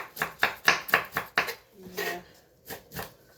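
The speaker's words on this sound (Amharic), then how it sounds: "ሴት ልጅ ሽንኩርት ስትከትፍ መክተፊያ ማጫው የለበትም አይደል?" A knife chops an onion on a cutting board with about six sharp, evenly spaced knocks. A short soft scrape or clatter follows, then two more cuts, all close and clear with no speech.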